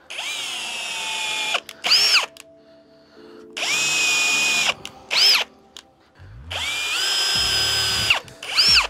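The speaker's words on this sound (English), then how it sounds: "So then I started putting pilot holes in here." A power drill bores pilot holes into wood for a homemade garage-gym squat rack: three loud, close whirring runs of a couple of seconds each, every one followed by a short higher rev, with quiet gaps between.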